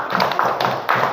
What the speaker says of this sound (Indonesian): tepuk tangan buat kelompok 2 dulu.